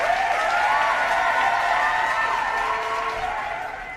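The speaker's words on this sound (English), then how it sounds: "Y'all give both of them a round of applause, man." A crowd at a battle-rap competition applauds both competitors, steady clapping mixed with scattered cheers and loud whoops that carry over the top, tapering slightly near the end.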